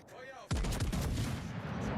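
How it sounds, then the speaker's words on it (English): Naval guns firing at an enemy warship in the Sea Power video game: a sudden loud blast followed by rolling booming echoes, with a faint voice before it. "Feuer auf gegnerisches Kriegsschiff"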